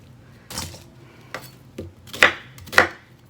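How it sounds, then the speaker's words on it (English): A knife chops an onion into big chunks on a board, five separate cuts landing at uneven intervals, close and crisp, the last two the loudest, with no talking. "we're going to cut these again into big chunks"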